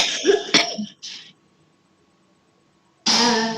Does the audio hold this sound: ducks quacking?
no